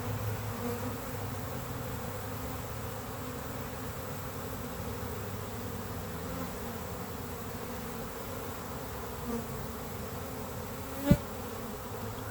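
A honey bee swarm marches into a new hive home, filling the air with a continuous, even insect buzz that holds steady throughout, with one brief sharper buzz of a bee passing close near the end; no voices.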